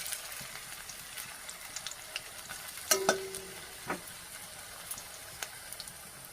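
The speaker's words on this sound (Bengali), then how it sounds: "গ্যাসটা লো ফ্লেমে দিয়ে আস্তে আস্তে করে ভাজতে হবে, না হলে পুড়ে যাবে।" Cauliflower pakoras fry slowly in oil over a low flame, a soft, even sizzle with scattered crackles and a few light clinks and stirring taps, no talking.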